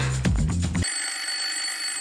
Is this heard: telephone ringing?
yes